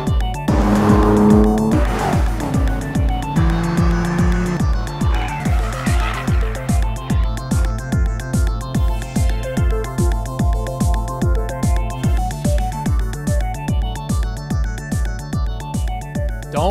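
A 2015 BMW M4 sports car lapping a track: a loud, close engine note that climbs through the revs with upshifts and brief tire squeal early, then settles into a steady, pulsing drone, with no voices.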